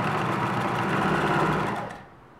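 A domestic sewing machine runs a zigzag stitch along fabric binding, a steady close whirring hum for about two seconds before it stops.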